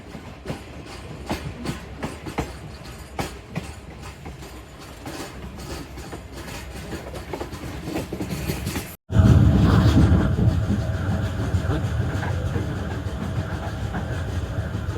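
Train rolling toward Sahiwal station in Pakistan, a steady rumble with rhythmic clickety-clack of wheels over rail joints, growing louder and fuller after a brief dropout, continuous with no talk.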